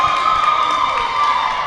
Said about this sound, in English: The crowd stands up, gives the Westside Derby Dolls number 74 Chuka a huge round of applause.